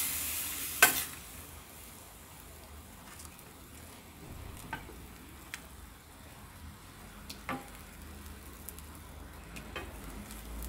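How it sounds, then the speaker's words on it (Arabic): Onion stirred into cooked minced meat in a hot pan makes a soft steady sizzle, with intermittent scraping and clicking of a spoon against the pan and one sharper knock near the start. "بعد ما طاب اللحم تاعنا نزيد لها البصله رحيتها"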